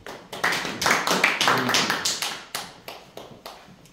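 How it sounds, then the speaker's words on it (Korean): A small lecture audience of administrative agents claps to welcome a visiting professor, a dense burst of sharp hand claps that thins out and fades over about four seconds. "큰 박수로 여러분들 환영해 주십시오"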